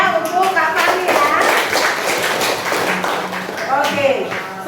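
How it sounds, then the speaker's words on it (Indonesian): Classmates clap for a student after a lesson on symmetrical composition, a quick burst of hand claps with teacher talk over it, close and moderately loud. "Tepuk tangan ya untuk Kak Fani ya."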